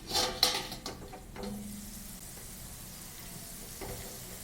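Potatoes cooking in a pan over a low gas flame: a few clattering stirs at first, then a soft, even sizzle that carries on alone.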